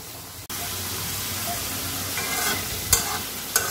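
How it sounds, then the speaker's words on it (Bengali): Onions fry in hot oil for birista, a constant close sizzle with occasional stirring scrapes and a couple of sharp crackling spurts near the end. "এখানে পেঁয়াজ বেরেস্তা করা হচ্ছে।"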